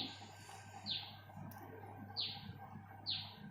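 Birds perched on the branches of a mango tree in spring give three short, bright chirps at spaced intervals over a low, steady background hum.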